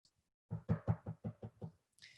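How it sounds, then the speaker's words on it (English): Knocking on a door: a quick run of about seven close, solid raps in a steady rhythm, heard alone in quiet surroundings. "Knock, knock."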